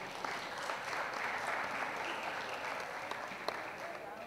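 A panel audience at an environmental film festival gives steady applause that holds at moderate volume for several seconds, heard from a short distance.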